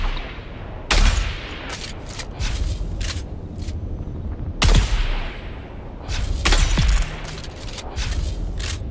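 Rocket blasts in the desert of the Dune Awakening game, with three loud booming explosions at intervals amid a steady backdrop of gunfire and rumbling combat noise.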